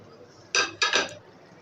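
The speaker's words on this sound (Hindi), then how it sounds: "अब हम इसके अंदर डालेंगे आलू, जो हमने क्यूब्स की शक्ल में काट के रखे थे" Boiled cubed potatoes tipped into a pot of black chana, giving a few loud clattering knocks of utensil against metal in close succession, then quiet.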